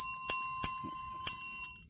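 Several sharp metallic dings from a bell on a model train engine, three distinct strikes with a ringing tone that decays to silence.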